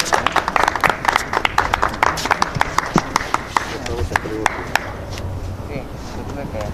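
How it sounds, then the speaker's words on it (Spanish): Scattered hand clapping from a small crowd at a tournament final award, uneven and moderately loud, gradually thinning out as it goes on. "quiero que le demos un gran aplauso a Gustavo Fuentes, campeón de clase E."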